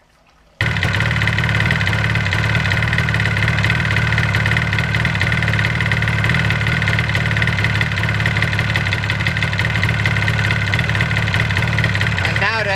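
A Yamaha RD400 motorcycle engine with a changed exhaust starts abruptly and settles into a loud, steady idle with a rough, throbbing rumble that continues throughout.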